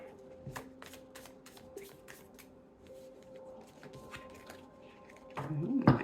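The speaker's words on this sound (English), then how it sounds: "I'll shuffle one more time." A tarot card deck being shuffled close up, with a run of quick riffling bursts and soft card slaps over a low steady hum, ending in a louder flurry of handling.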